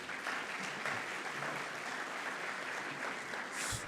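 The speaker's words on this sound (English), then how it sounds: "You can clap for yourselves." A room full of people at a university commencement stole ceremony claps steadily, a dense wash of applause that holds at even loudness throughout.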